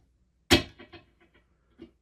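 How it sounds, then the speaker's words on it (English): A percussive chop stroke on a violin bow gives a sharp scratchy attack, then a few quieter decaying repeats that sound like delay echoes, plus one more soft stroke near the end. The playing is close and stands alone, with no talking. "a chop sounds like this."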